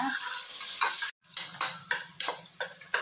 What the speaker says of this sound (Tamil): அதே நல்லா வதக்குங்க